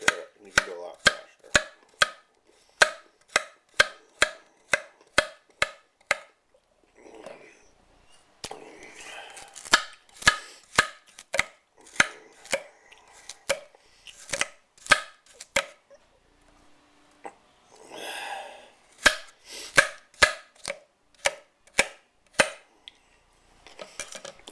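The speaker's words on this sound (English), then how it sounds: "Cut up the rest of the carrots." A kitchen knife chops carrots cut the long way on a board, sounding as sharp, rapid knocks in quick runs with short breaks and some softer handling noise between.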